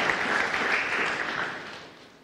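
A church congregation applauds in praise of God, a dense, even wash of clapping that holds steady and then fades slightly toward the end, with no voices over it.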